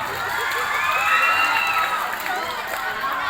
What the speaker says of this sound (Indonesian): Oke, tepuk tangan dulu dong buat Haris.